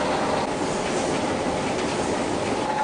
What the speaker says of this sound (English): This is a real high-speed 3-ply mask machine, and the speed is actually 5 times more than a regular 3-ply mask machine